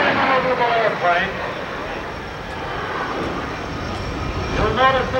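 A-10 jet at the Westover AFB airshow in 1990 passing low overhead, a broad steady engine roar with whining tones, while a voice talks over it throughout.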